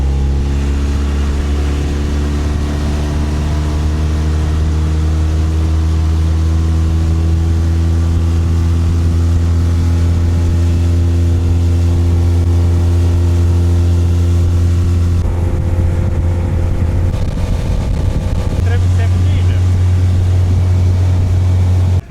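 A Pro Marine H450 motorboat, 4.5 m long, runs flat out during a speed test with two aboard, its outboard engine a loud, steady drone that shifts pitch briefly near the end.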